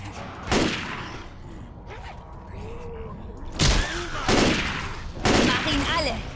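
Four sharp gunshot bursts in Left 4 Dead 2, spaced a second or so apart, with faint background game sounds between them.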